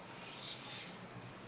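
Faint continuous scratchy rub of a pencil drawing a line across kurti pattern paper, a steady soft stroke lasting about a second and a half with no voices.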